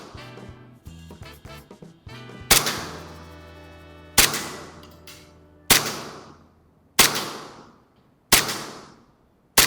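A 1911 gas blowback airsoft pistol loaded with 0.2 gram BBs fires six sharp, loud cracks spaced about one and a half seconds apart, each with a short ringing decay, after a brief tonal hum at the start.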